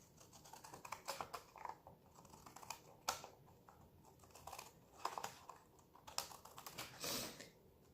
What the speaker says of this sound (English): just go ahead and do my decorative cutting here